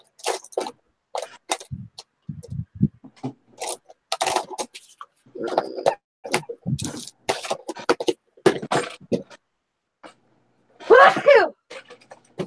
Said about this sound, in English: As soon as I start sneezing.